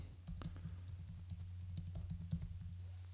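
Quiet, rapid tapping of keys on a computer keyboard, irregular clicks over a faint low hum.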